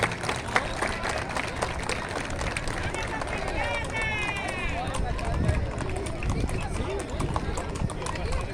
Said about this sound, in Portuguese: com as palmas dos senhores Piquete Cabanha HC